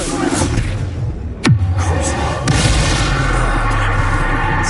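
A loud Expulso spell blast from Hogwarts Legacy, a sharp crack with a falling whistle and a rumbling boom, set among continuous battle noise and game voices during a fight with Rookwood.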